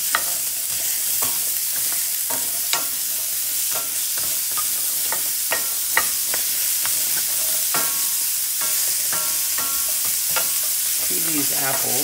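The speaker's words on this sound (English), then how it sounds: "saute about a cup and a half of sliced or chopped Granny Smith apples" Sliced Granny Smith apples sautéing in a dry cast iron skillet, a continuous close sizzle broken by frequent sharp clicks and scrapes of stirring.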